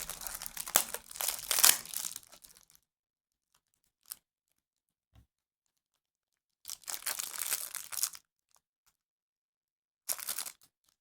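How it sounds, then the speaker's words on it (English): Cellophane wrapping comes off a cheap budget wristwatch during unboxing, making close, crisp crinkling bursts at the start, a few faint taps, then another rustling spell and a final short crackle between silent pauses. "I love that cellophane sound."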